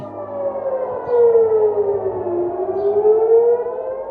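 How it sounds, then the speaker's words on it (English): A wailing air raid siren in Israel, sounded during an Iranian missile attack, rises and falls steadily, loud and sustained, with no voices over it. "Iran has also attacked Israel, setting off air sirens in different parts of the country."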